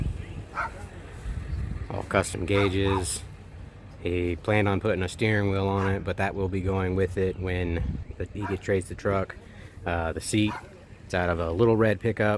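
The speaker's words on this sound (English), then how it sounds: "Sorry about the dogs. They're in the background." Dogs bark and yip in the background of a garage while someone talks over them about a restored custom truck, the barks coming in repeated short bursts.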